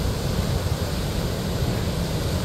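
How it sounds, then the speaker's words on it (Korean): Ocean waves wash near Jopok Waterfall on Yeongdo Island, a continuous broad roar of surf and splashing water, close and steady with no voices. "오, 파도 멋집니다"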